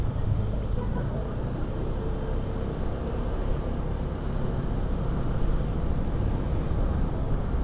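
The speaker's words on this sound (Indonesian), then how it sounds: "Di tanjakan itu nggak terlalu bekerja keras mesinnya." A Honda ADV 160 scooter carrying a passenger drones steadily at moderate revs, a continuous low engine hum mixed with road and wind rush, heard from the rider's position.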